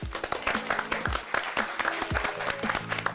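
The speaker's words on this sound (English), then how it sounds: "Contestants, well done on making it this far. Give yourselves a warm round of applause." Contestants on a cooking competition show applaud themselves, a brisk, close round of clapping with a few louder claps over a soft music bed.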